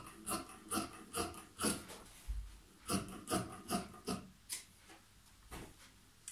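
Trouser fabric is cut through several layers while sewing wide-leg trousers with pockets: about a dozen rhythmic, rasping cutting strokes sound close and fairly quiet.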